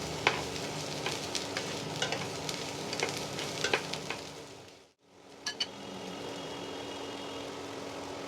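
Pointed gourd and prawns fry in a pan with an oil sizzle, stirred now and then with sharp utensil clinks, broken by a brief lull before the frying resumes.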